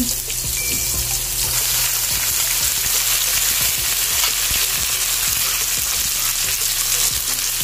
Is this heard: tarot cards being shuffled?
no